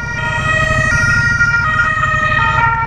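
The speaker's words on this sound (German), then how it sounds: "Tatütata!" Emergency vehicle siren blaring loud and close with a steady wailing tone over low road rumble, lasting the whole stretch with no talk.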